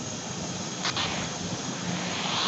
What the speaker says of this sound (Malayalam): നമ്മളെ പ്ലെയിന് ഒരു ജെറ്റ് പോലത്തെ ഒരു പ്ലെയിനാണ്